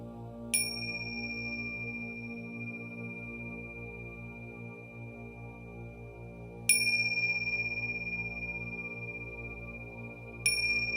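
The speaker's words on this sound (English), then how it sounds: "And listen to the sound of the bell." A meditation bell is struck three times at wide intervals. Each strike gives a clear high ring that slowly decays over a steady low background hum, with no speech.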